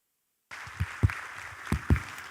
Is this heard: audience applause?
yes